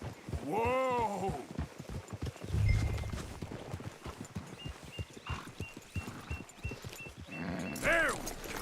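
Horses in the Red Dead Redemption 2 video game, steady clip-clop hoofbeats with a neigh at the start and another near the end, plus brief voices in between.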